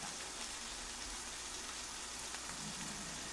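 Steady rain hisses down evenly without pause, a soft continuous patter with no voices.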